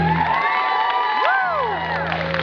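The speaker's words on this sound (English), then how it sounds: "I want to give them a big audio spanking of clapping." A cabaret audience cheers and whoops loudly, with excited shouts and high voices rising and falling over a continuous crowd roar and little clear clapping.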